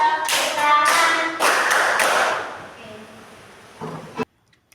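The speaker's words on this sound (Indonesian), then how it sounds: "tepuk siku, tepuk pundak, tepuk tangan" Hands clapping and patting in a children's classroom clapping game, with a series of sharp slaps in quick bursts that thin out into softer taps and end in one final clap.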